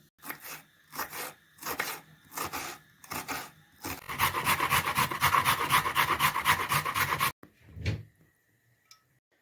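Carrots being rubbed against a grater by hand, a rhythmic series of rasping strokes that first come in separate bursts and then turn into fast continuous scraping, close and loud, with no talk.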